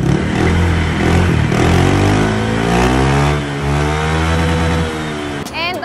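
A Honda Click scooter with a newly replaced exhaust pipe revs loudly and steadily up close, engine pitch rising and falling through several throttle blips before cutting off near the end.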